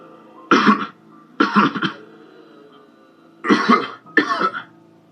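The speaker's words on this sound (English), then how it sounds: "Sorry, I just coughed." Four loud, harsh coughs close by, in two pairs with a pause between them, no talking.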